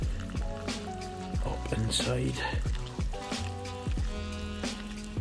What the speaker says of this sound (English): so there's the water running out there.